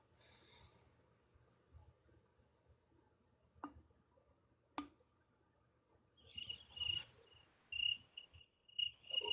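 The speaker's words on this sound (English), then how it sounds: "this cricket sounds legit" A cricket chirps in a steady, high, repeating trill that starts about two-thirds of the way in and grows louder. Before it, a quiet background carries a couple of faint clicks and soft rustling.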